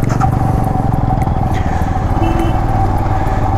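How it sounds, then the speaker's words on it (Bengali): A motorcycle rides past close by, with a loud steady engine drone and a rhythmic rattle that hold for the whole clip. "ও বাইক দিয়ে বেরিয়ে যাচ্ছে।"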